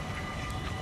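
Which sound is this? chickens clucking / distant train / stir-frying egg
distant train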